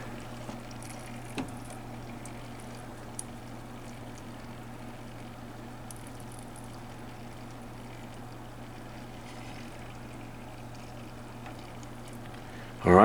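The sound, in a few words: faint gurgling of NZXT Kraken M22 AIO liquid cooler pump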